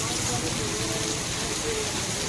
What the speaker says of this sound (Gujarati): વરસાદની ફરીવાર ધમાકેદાર એન્ટ્રી થઈ છે.